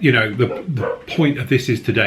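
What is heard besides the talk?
dogs barking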